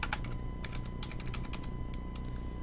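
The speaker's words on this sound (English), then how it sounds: "we're just going to type in Exit Glacier." Computer keyboard typed on in a short burst of clear, close clicking keystrokes over a steady background hum, with no voices.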